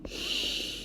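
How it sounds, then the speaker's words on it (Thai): A person draws in one long, deep breath through the nose during a back exercise for a herniated disc, a steady airy hiss of under a second, close and clear with no talking. "เอาใหม่นะหายใจเข้า"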